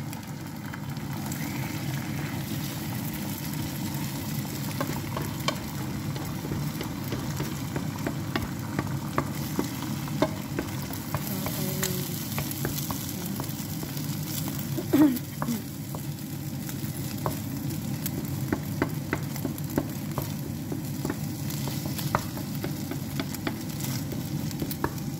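An egg frying in a pan at home, a steady sizzle with light crackle and occasional stirring clicks, close and continuous with no talk.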